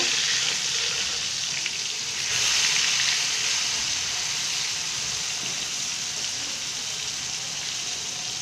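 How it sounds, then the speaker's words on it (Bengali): Pangas fish frying in hot oil, a loud continuous sizzle and crackle with a brief louder surge, close by with no talking. "মাছগুলো এপিট ওপিট অনেক লাল করে ভাজতে হবে।"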